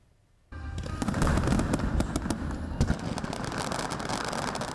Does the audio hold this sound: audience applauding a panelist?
no